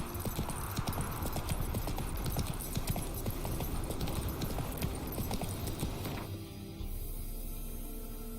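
Horse Roach galloping in The Witcher 3 game, a steady rapid clip-clop of hooves, loud and close, continuing for about six seconds before cutting to a quieter, softer background.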